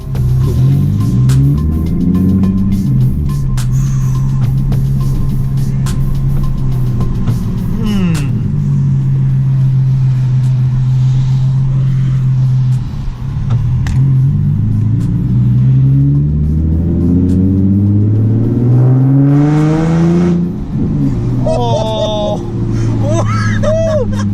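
A NISMO Nissan 370Z with a Tomei exhaust revs and accelerates through the gears on the road, the engine note repeatedly rising and dropping, loud and close from inside the car, with people talking over it.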